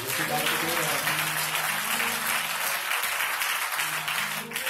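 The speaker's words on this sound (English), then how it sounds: "Come on, give God a hand clap of praise." A church congregation claps in praise, loud sustained hand clapping with voices and music running underneath throughout.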